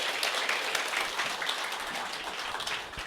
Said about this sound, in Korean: 홍진영 국장님 모실 때 큰 박수 부탁드리겠습니다.